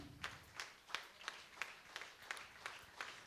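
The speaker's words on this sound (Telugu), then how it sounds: "జోరుగా క్లాప్స్." Audience clapping at a health care training event, a sparse, faint, steady rhythm of about nine distinct claps spaced evenly over a few seconds.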